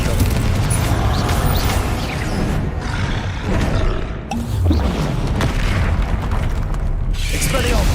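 Bombarda explosion spells go off in a Hogwarts Legacy duel, with loud, booming blasts and rumbling roars layered over dense combat noise, and voices shout throughout.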